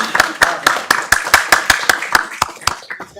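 Sparse, separate hand claps ring out at a city council meeting, a dozen or so distinct sharp claps in an uneven rhythm, close and fairly loud, with a little talk mixed in.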